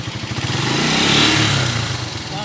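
A motorcycle engine fitted with a rectifier revs up, building to a loud, sustained near roar that peaks midway, then eases slightly while still running strong; no talk.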